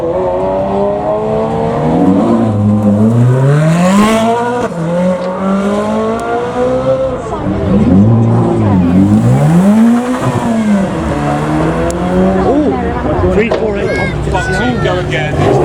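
A Ferrari 512 TR and a 458 Speciale accelerate at a supercar show: loud, rising engine roars that climb and fall through the gears, close by, with voices talking over them.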